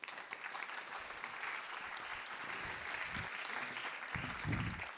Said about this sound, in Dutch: Graag een applaus voor Sebastian Steveniers.